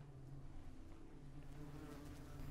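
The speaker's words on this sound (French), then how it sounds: "Il y a des mouches." Flies buzzing in the video game MiSide, a faint, steady low drone that holds throughout with slight wavering, quiet and alone, ending on a tiny click.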